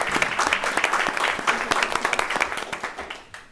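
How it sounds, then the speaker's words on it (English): An audience at a board meeting gives a round of applause for bookkeepers, close and steady crowd clapping that keeps going throughout and eases off slightly at the end. "Please give our wonderful bookkeepers a round of applause"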